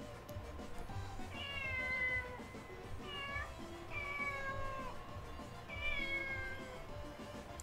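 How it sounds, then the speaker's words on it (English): A cat meows repeatedly in the video game Tokyo Mirage Sessions #FE, four rising cries spaced over a steady, busy game soundtrack, fairly close and clear. "Kyria, you ain't gonna talk to that cat"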